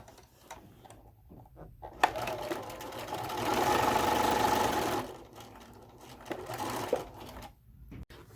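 A sewing machine stitches the second seam on a Super 8 quilt block, running in one sustained close whir for about three seconds, framed by quieter handling clicks and fabric shuffling before and after.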